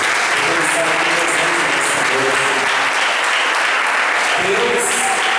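A church congregation claps together in a dense, loud, continuous roar of applause that fills the room, with faint voices mixed in beneath it.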